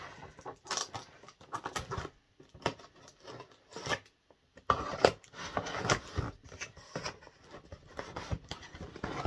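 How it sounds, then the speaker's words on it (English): Scissors snip and tear through tape on a wrapped present in a quiet room. The crisp, irregular cuts and rustles come in uneven bursts with short pauses between them, close to the microphone. "cut through all this tape"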